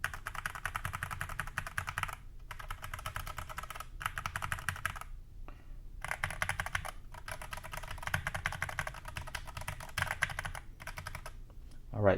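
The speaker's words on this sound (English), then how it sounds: "this is with the tape mod with the default keys that it comes with" Mechanical keyboard typing on an iLovBee i61 with tape mod and stock keycaps, a steady close stream of rapid keystrokes with a few brief pauses, no voice.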